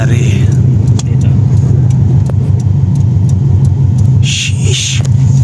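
A Subaru Blobeye's engine is held at high revs, around 6,000 RPM, giving a loud, close, steady rumble with faint voices beneath it.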